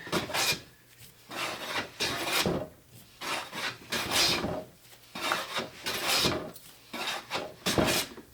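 A Lie Nielsen No. 8 jointer plane is pushed along sapele wood in repeated rasping strokes, about a dozen evenly spaced passes with short gaps, close and clear.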